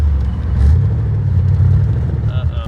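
Supercharged Corvette V8 revving under throttle while driving, a loud, close, deep rumble that holds steady with small surges, with a brief higher whine near the end.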